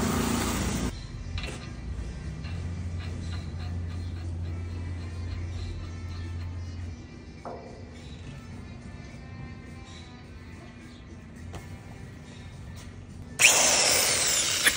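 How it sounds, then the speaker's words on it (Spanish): A power tool whirs and rattles steadily while fitting a pulley on a Vecker concrete mixer, with a low hum in between and a louder burst near the end. "Aquí me voy a apoyar de esta llave de impacto para dejarla lo mejor posible preparado."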